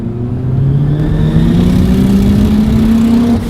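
An upgraded turbo Ford Fiesta ST engine revs up steadily accelerating in second gear, a loud rising drone with a faint high wastegate whine on top, continuous throughout.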